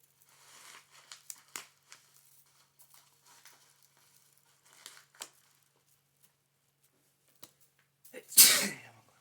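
A single sharp sneeze bursts out near the end, loud and close, after scattered quiet rustling and faint movement sounds.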